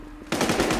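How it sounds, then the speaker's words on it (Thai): Rapid automatic gunfire in the online shooter Infestation, a loud, close burst of rattling shots that starts abruptly after a brief quiet moment. "ยิงอยู่ไหนวะ ข้างนอกป่า"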